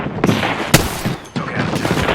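Bursts of gunfire from an Apex Legends match, with sharp shots and a loud crack near the middle amid a continuous clatter of weapons fire, briefly dipping before resuming.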